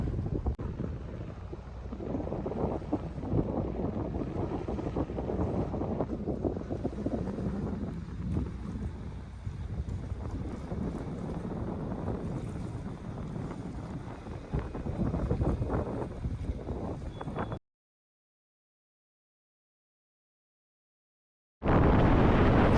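Nordhavn 62 motor yacht Zarpe runs at speed on open sea toward the Berry Islands, a dense rushing wash of hull, water and heavy wind buffeting the microphone, cutting out briefly before resuming.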